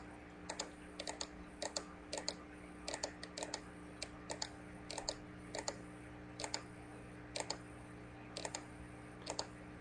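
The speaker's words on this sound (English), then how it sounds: "And all I'm doing is just left clicking." Left clicks on a computer mouse while drawing a map in Illustrator, quiet sharp single and paired clicks at an irregular pace over a faint steady hum, with no speech.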